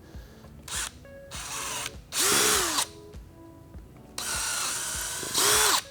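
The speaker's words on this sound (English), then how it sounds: "with this largest drill, we're only drilling out the outside holes and not the middle" A power drill with a large bit, near 6 mm or 1/4 inch, bores holes for a fender eliminator on a Honda Grom, whining in several separate bursts with pauses between them.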